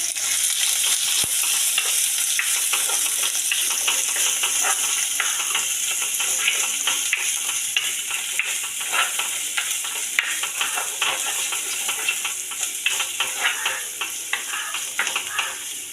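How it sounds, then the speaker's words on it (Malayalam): Chopped shallots and ginger sautéing in a pan, with a steady, close sizzle and frying hiss running throughout and light stirring scrapes and ticks over it, with no talk. "ഇതെല്ലാം കൂടി നമുക്ക് നല്ലോണം വഴറ്റിയെടുക്കാം"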